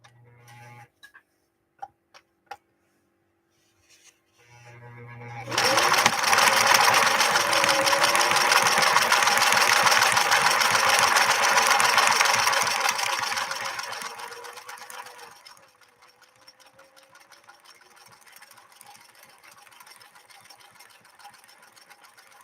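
A 1968 Singer Model 626 sewing machine stitches a pattern, starting after a few quiet clicks and running loud and steady for about ten seconds before easing off into softer mechanical ticking.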